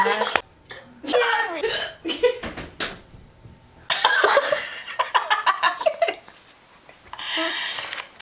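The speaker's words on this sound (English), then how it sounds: "Don't hiccup." Repeated hiccups come in short, sharp bursts with gaps between them, mixed with chuckling and other vocal sounds at close range.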